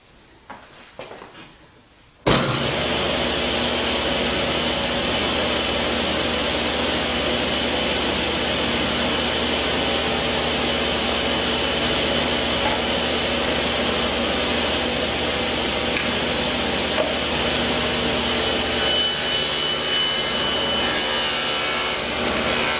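A power saw cuts wood for dado slots in a shop, starting abruptly after a short quiet lead-in, then a loud, steady, close whine and rasp of the blade running continuously.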